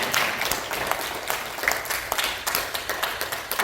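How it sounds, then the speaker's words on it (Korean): A church congregation at a Korean Sunday worship service claps together in dense, steady applause that fills the room for a few seconds. "할렐루야 박수합시다."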